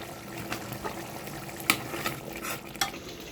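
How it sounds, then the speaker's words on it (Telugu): Curd and homemade garam masala stirred together in a pan for a chickpea curry, giving soft scraping and wet sloshing strokes with a few sharper clinks of the spoon against the pan, close and steady. "ఒక చిన్న కప్పు పెరుగు పొడి వేసుకోవాలన్నమాట వేసి బాగా కలపాలి"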